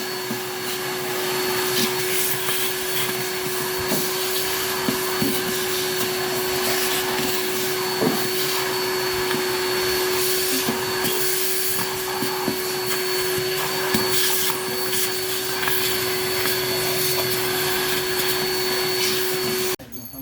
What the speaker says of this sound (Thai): ช่างก็เคลียร์ออกไปได้นิดนึงนะคะ ก็จะดูดฝุ่นทำความสะอาดให้นะคะ